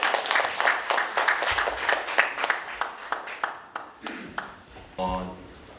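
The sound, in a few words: audience applause at a lecture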